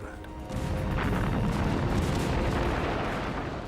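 Rumbling artillery and gunfire from the German assault on Stalingrad in October 1942, a dense, continuous roar of booms and shots that swells after a quiet start and stays heavy throughout.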